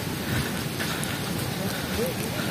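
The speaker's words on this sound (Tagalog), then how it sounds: "ayan na umuulan inaabot tayo ng ulan." Rain falls in a dense, steady hiss at a beachfront resort, a close continuous wash of drops with faint voices murmuring underneath.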